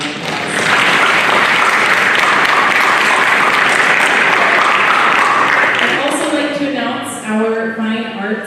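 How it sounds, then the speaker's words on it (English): Loud, sustained applause from a high school orchestra concert audience fills a large hall for about six seconds, then fades as a voice begins speaking over the last of the clapping. "let's give them a round of applause"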